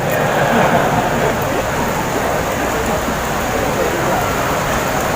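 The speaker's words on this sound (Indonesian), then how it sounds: "Hujan deras, Masya Allah." Heavy rain pours steadily outside a mosque in Sigli during an evening sermon, a dense, loud, constant wash of noise with faint voices underneath.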